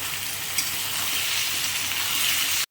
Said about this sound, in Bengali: আমি সজনা ডাঁটা ভাজি না, সাঁতলে নেব।